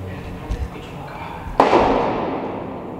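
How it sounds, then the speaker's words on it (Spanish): A single loud, sharp gunshot followed by a long rumbling decay, echoing outdoors near a tunnel at night, after a couple of dull thumps. "Son balazos"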